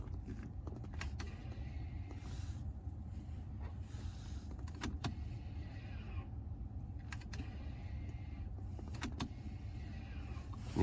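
Electric motor whirring of a BMW F-series rear brake caliper piston being rewound through an Autel diagnostic tool, a steady mechanical hum inside a car broken by several short clicks, with no talking.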